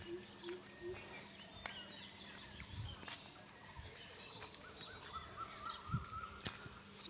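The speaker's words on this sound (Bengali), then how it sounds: "কি কত সুন্দর পাখির আওয়াজ" Birds call along a village dirt path in the early morning, with scattered faint chirps and caws over a soft insect hum and quiet outdoor background.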